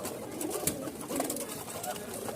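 Male pigeons of a fancy hand-flying breed scuffling and cooing nearby, with bursts of wing flaps and coos over a steady busy background; someone talks briefly.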